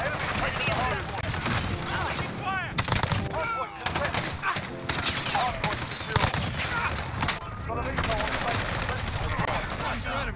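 Rapid bursts of automatic gunfire from a Bizon submachine gun in Call of Duty Modern Warfare ring out loud and close in repeated volleys, with short gaps and other game effects between them.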